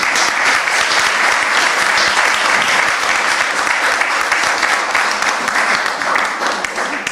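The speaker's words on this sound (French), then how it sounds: "On l'applaudit bien fort." Loud, dense audience applause at a health innovation prize ceremony for medical interns, sustained evenly for several seconds and tapering slightly at the end, with no talking over it.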